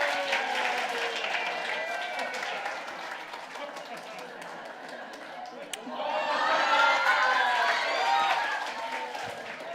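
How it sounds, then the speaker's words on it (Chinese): A church congregation applauds during a Sunday worship service to welcome the pastor. The dense clapping swells louder partway through, while a voice carries on over the crowd. "我们用掌声来欢迎我们最美丽的牧师潘牧师"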